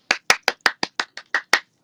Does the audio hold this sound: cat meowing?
no